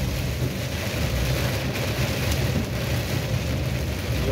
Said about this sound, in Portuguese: Fica um pouquinho da chuva aí.